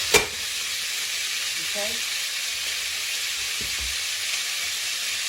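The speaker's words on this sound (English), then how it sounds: "I'm going to brown it on that side, flip it over a time or two, and brown it on the other." Beef browns in a hot pan with a loud, continuous sizzle and hiss, broken by a sharp knock at the start, a brief stir, and a short spoken word.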